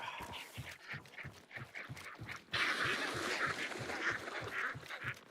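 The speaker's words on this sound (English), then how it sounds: "We're gonna have to set off those ducks." A flock of ducks quacks in a rapid, continuous chorus of harsh honking calls in the Hunt Showdown 1896 video game, growing louder and denser partway through as more birds join in.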